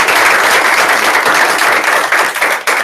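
Audience at a sales meeting applauding a top sales team, a dense, loud, continuous burst of many hands clapping that holds steady throughout and tapers slightly near the end.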